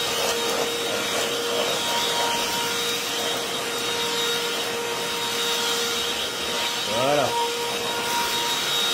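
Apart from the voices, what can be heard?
Moulinex X-Pert 160 cordless vacuum cleaner running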